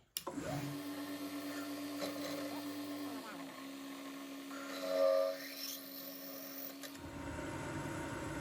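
A power tool hums steadily while a reamer grinds and rasps against metal, enlarging a pivot hole in an engine side, the pitch shifting midway, then the motor cuts out.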